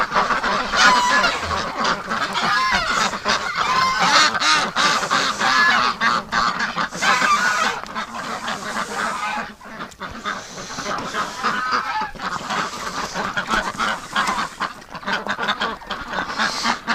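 Wintering ducks and geese crowd close by in a pen, honking and quacking loudly and without a break over a dense, overlapping chorus.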